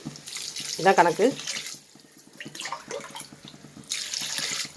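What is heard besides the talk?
water poured into pot for prawn biryani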